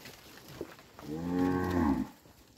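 A single cow bellows in one long, loud, rising moo lasting about a second, close by, during a cattle vaccination workday, with faint background noise before it.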